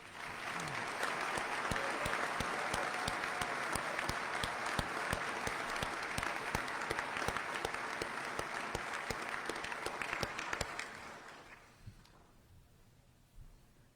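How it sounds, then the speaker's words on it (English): A commencement crowd at Allen College applauds its graduates with a long, dense wash of clapping that holds steady for about eleven seconds, then fades out into near quiet. "Let's give a huge round of applause for all of our graduates today"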